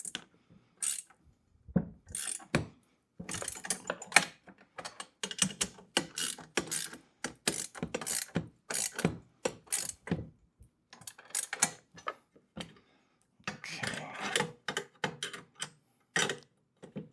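Ratchet tightening bolts on a heavy-duty four-wheel garden dump cart: quick trains of close, crisp clicks in short bursts, pausing and starting again all the way through.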